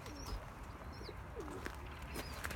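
Flying game pigeons coo and chirp outdoors in cold weather, faint, scattered calls over a low background rumble.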